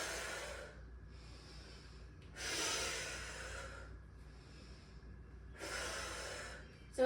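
Three deep, hissing breaths are drawn in and pushed out during squats in a workout, each lasting about a second, spaced evenly and heard close up against a quiet background.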